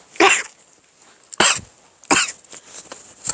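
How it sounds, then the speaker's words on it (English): Three sharp coughs, close by, spaced about a second apart with quiet breaths between. "Oh, don't you start coughing. I don't want to hear you coughing."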